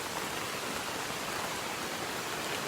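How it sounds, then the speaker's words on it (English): Steady, dense rain hiss, even and continuous throughout, fairly close with no voices over it. "So quite exciting day in the rain."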